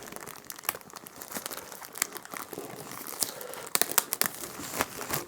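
A small plastic bag of cables from an Edifier S880DB mkII speaker set is handled and unpacked close to the microphone, giving irregular crinkling and rustling bursts with a few sharper crackles.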